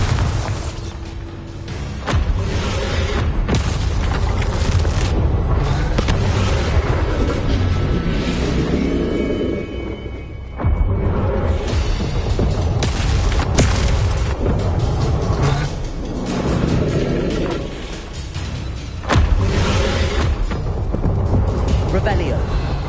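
Heavy, booming spell blasts from the exploding Bombarda spell in Hogwarts Legacy, a run of loud, rumbling detonations and bursts that recur over about twenty seconds, with speech mixed in among the blasts.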